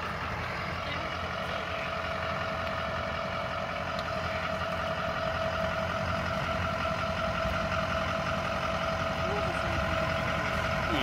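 A truck engine idles through its muffler with a steady, even rumble and a faint knocking texture that stays constant throughout.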